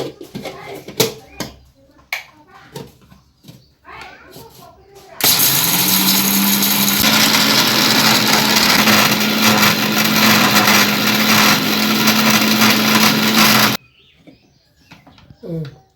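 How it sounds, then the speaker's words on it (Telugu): A mixer grinder in a small home kitchen grinds soaked lentils, a loud, steady whirring motor that runs for about eight seconds, with talk before it starts and after it stops. "పప్పులు మిక్సీకి వేసుకుందామండి"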